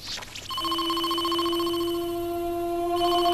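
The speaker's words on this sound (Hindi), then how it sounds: "मुझे ऐसा लगता है कोई टीवी टेलीफोन पर हमें कॉल कर रहा है" A cartoon TV telephone rings with an incoming call. A short burst of rising electronic tones gives way to a steady, bright, sustained ringing tone that carries on clearly, with no speech.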